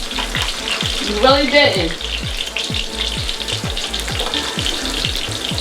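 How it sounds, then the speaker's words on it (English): Hot dogs fry in a pan with a steady crackling sizzle and rhythmic popping, while a person speaks briefly over the cooking. "Couple of minutes for them to fry."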